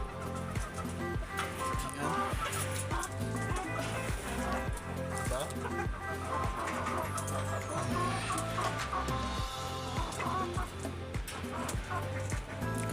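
Chickens cluck steadily throughout, with a rooster calling among them, all layered over continuous dense background music.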